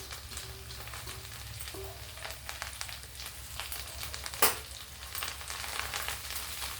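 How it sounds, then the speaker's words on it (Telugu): Fresh coriander leaves frying in oil in a pan for tomato pickle, a faint, steady sizzle with small crackles and one brief clatter, no voices. "కొత్తిమీర వేగించడానికి సరిపోతుందండి ఆయిల్"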